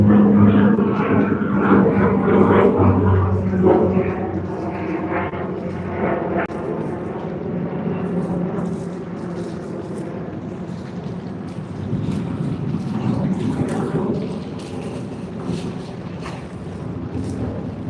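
A Dash 8-400 turboprop takes off at Sydney Airport on an early morning, its engines roaring loudly and steadily, then easing into a broad, rumbling drone that lingers with wind noise.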